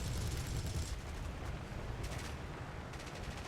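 The Beaufighter's four 20mm Hispano Mark I cannons fire in the War Thunder video game: short bursts of rapid, rattling shots over a deep, constant engine drone, with no voice.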